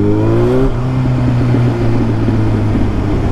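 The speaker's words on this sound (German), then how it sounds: "Boah, mein Motorrad ist so laut." A Yamaha motorcycle engine drones loud and close throughout, a steady humming, buzzing tone that shifts pitch once as the gear or revs change, with wind rushing over it and no talk.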